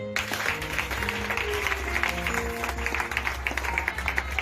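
A church congregation applauding, steady sustained clapping with a sung or held tone running underneath, moderately distant throughout.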